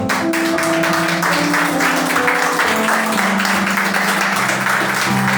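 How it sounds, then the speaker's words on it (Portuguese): A church congregation claps loudly during a worship service while sustained tones from instruments hum underneath, the clapping dense and continuous throughout. "Você pode aplaudir Jesus por essa palavra?"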